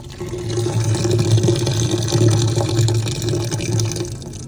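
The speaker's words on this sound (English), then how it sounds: "That's the sound of a clean drain." Water draining through a cased cooler's cleared condensate drain, a steady continuous trickling and gurgling flow held close by for several seconds with no talk.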